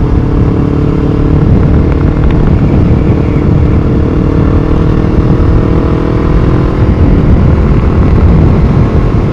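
A 2012 Kawasaki Ninja 250 motorcycle being ridden, its engine droning loud and steady throughout with continuous wind rush, heard close from the rider's position.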